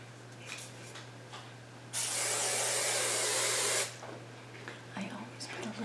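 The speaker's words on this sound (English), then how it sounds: "I always put a little bit of hairspray" Hairspray from an aerosol can misted onto hair in one close, steady two-second hiss, with faint handling rustles before and after.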